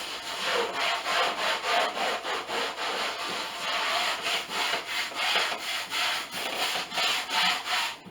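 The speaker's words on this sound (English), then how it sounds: "I'm coming in with my sanding sponge, and I'm going to work that paint into the fabric." Rhythmic scratchy rubbing of a new sanding sponge worked back and forth over painted couch fabric, steady strokes about twice per second, close and alone.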